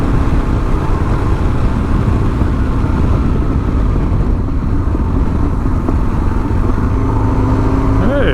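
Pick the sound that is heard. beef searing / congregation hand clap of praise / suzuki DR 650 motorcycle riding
suzuki DR 650 motorcycle riding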